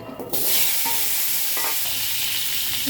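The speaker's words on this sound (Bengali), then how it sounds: "মাছ ভাজা তেলের মধ্যে আমি এখানে 2টো মিডিয়াম সাইজের আলু কেটে নিয়েছি, এটাকে ভেজে নেব।" Two medium potatoes frying in oil left over from frying fish or prawns: a loud, dense sizzle that jumps in after a brief moment of stirring and holds steady close up.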